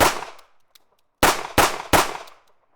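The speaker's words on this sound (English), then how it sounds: "Now the .38 Special. Again, the vest is hit at point-blank range." Three sharp .38 Special pistol shots strike a body armour vest at point-blank range in quick succession, each a loud crack with a brief decay, preceded by a fainter earlier report and near-silence between.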